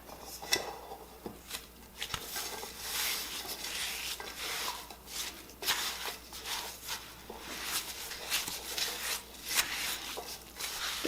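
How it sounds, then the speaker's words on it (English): Rhubarb carrot jam stirred with sugar and juice in a pot, a steady close scraping and rubbing of the spoon with soft wet churning, continuous with brief louder strokes throughout. "Now we're just going to mix this together."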